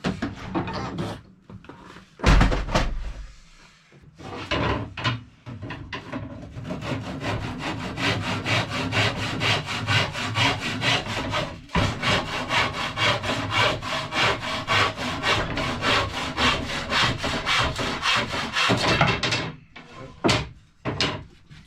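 A hand saw, a Taiwanese model, cuts steadily through wood in fast, rasping back-and-forth strokes, loud and close, running continuously for most of the time during a sailboat renovation.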